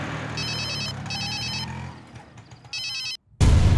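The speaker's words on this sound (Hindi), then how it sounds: "सुनो, तुम्हारा फोन बज रहा है।" Mobile phone ringing, several bursts of an electronic ringtone in quick succession over low background noise, then an abrupt cut to a loud rumble.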